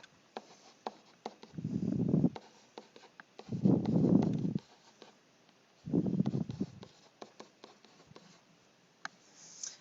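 A pen or pencil writes on paper up close in three bursts of scratchy strokes, with quiet taps and small pauses between them.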